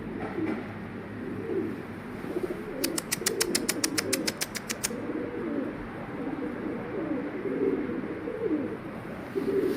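A male pigeon courting other pigeons on a rooftop gives repeated low, throaty coos, with a short burst of rapid fluttering clicks partway through and no talking.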